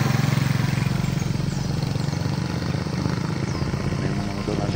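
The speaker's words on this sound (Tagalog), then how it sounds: "Ayan, mga motor na dumadaan dito." Motorcycles passing along a residential street past neighbouring houses, a steady loud engine drone filling the whole stretch with no break, heard close by.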